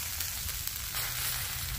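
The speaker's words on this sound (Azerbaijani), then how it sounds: "Baxın, necə də gözəl qızardıram." Food fries in a pan with a soft, continuous sizzle and faint crackles, close but quiet, with no talking.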